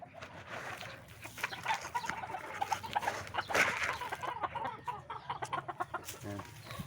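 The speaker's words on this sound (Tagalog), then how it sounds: "Ayan, nagpapatuka na ako ng paunti-unti." Backyard chickens in a small coop cluck and chatter steadily as they are fed in the late afternoon, with many close, overlapping clucks throughout.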